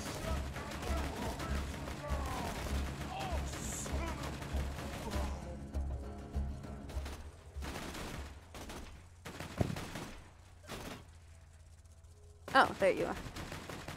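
Bursts of video game gunfire, rapid clustered shots in short volleys separated by quiet gaps, fairly faint and mixed with a person's casual talking early on.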